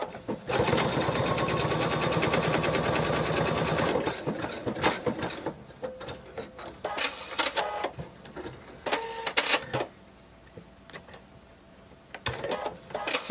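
A sewing machine stitches fabric for a whale shark plush, a loud steady whir for the first four seconds, then short stop-start bursts and clicks with quiet gaps between them.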